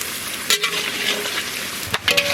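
Pointed gourd (potol) frying in oil for a Bengali potol posto dish, a steady sizzle with two sharp stirring scrapes of the pan partway through.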